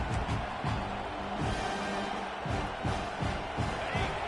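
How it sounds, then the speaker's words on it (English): A stadium crowd at a football game roars and cheers steadily as a dense wall of noise, while a commentator talks over it. "this crowd is turning it up a notch"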